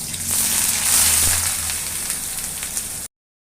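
Chopped onions and green chillies frying in a few spoons of hot oil for a chicken drumstick curry, a steady close crackling sizzle with no talk, cutting off abruptly.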